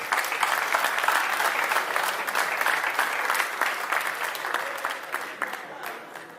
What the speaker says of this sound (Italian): Grazie ancora, un applausone.